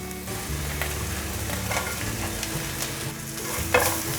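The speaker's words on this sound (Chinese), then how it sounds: "快速的翻炒" Shiitake mushrooms and carrots crackle and hiss as they are stir-fried in a wok, a steady sizzle broken by a few louder tossing and scraping bursts near the end.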